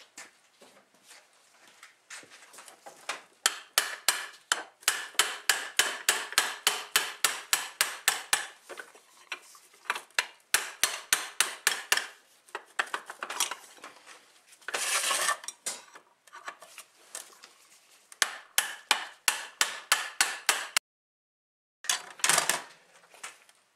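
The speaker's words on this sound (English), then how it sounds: "So all we do now is knock that pin out with a long center punch." Hammer blows knock a pin out through a long center punch, the sharp metallic strikes coming in rapid repeated bursts, close and loud, with short pauses between the runs of hits.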